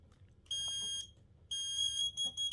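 HomeHero HH-COSM-B-RF smoke and carbon monoxide alarm under test, sounding two loud shrill electronic beeps of about half a second each with a short pause between, heard close up.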